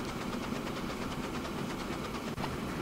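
Small saddle tank steam locomotive in Transport Fever 2 puffing steadily, a fast even chuff over a thick rumbling drone, close and constant, with a brief click near the end and no talking.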